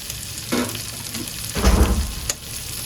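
Sliced ivy gourd goes into a pan of onions fried until reddish. Close sizzling swells with two bursts of frying as the pieces hit the oil, with no talking.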